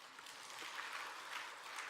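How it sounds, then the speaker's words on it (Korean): Applause from a church congregation during a sermon, a soft, steady wash of clapping that sounds distant and low in level, with no talking over it. "이럴 때 박수 쳐줘야 돼요"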